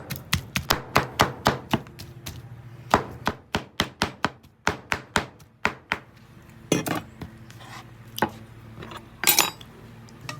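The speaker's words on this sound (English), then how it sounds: "All right, I got everything chopped up." Smoked pork ribs are chopped on a board in a rapid run of sharp knife strikes, nearby and distinct, with a few pauses and a clattering burst toward the end.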